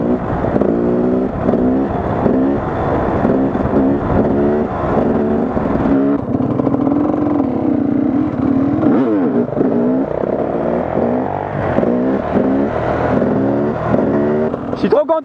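A two-stroke supermoto motorcycle accelerates along a road near Nice, its engine note climbing and dropping through repeated revs and gear changes, loud and close with a steady rasp, with voices talking at points.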